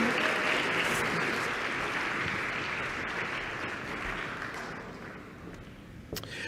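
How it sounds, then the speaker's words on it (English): Audience at a corporate and nonprofit partnership panel applauds the panelists, a full round of clapping that starts strong and gradually thins and fades toward the end. "If you give them a round of applause, please."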